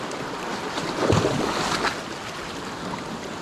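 Sea swell washing onto a UK fishing beach, a steady roar of surf with one fuller surge in the middle, mixed with wind buffeting the microphone, no talking.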